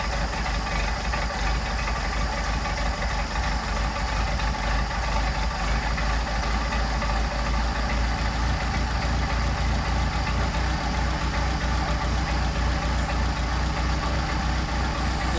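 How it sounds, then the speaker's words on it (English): A Mercedes-Benz 190SL engine with Solex carburetors idles steadily and loudly close up while the mixture is adjusted, a constant rumbling drone with a slight uneven knock and no talking. "you'll be able to hear the difference in the engine as it loses idle"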